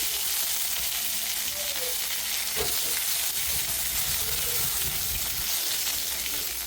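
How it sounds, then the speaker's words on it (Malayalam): Mustard seeds spluttering and sizzling in hot oil in a kadai on a home kitchen stove, a steady crackling fry with scattered pops, close and continuous with no talking. "ഒരു കടായി ചൂടാക്കി അതിലേക്ക് എണ്ണ ഒഴിച്ച് കൊടുത്തിട്ട് കടുക് പൊട്ടുമ്പോഴേക്കും അതിലേക്ക് കുറച്ച് കറിവേപ്പിലയും കൂടി ഇടുന്നുണ്ട്"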